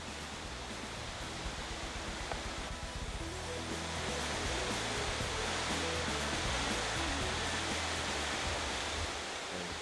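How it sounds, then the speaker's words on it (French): Steady broadband rush of a small river flowing through a forest in Charlevoix, a continuous loud hiss of water with no distinct splashes or voices, constant throughout. "On commence à voir la petite rivière qui est devant nous."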